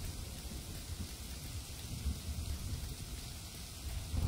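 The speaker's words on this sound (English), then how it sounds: "Oh, it would start pissing raining." Steady rain falls in The Division 2, a continuous even hiss of downpour with a low rumbling bed underneath and no voices.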